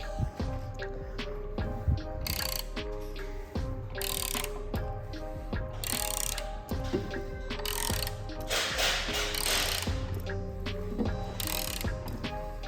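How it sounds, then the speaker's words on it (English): A BMW N54 engine's crankshaft turned over by hand with the timing parts removed, giving a continuous stream of ratcheting mechanical clicks and metallic ticks, close and fairly loud, with no talk. "I got all the timing stuff taken out of it and spinning the crank over."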